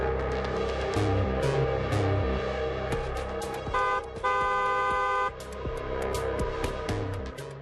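A car horn honks repeatedly, a loud, close, blaring tone, including one long sustained blast in the middle, over the steady hum of a vehicle.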